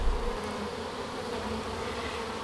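Honey bees buzz steadily and densely inside an open hive during an inspection, a close continuous drone with no voices.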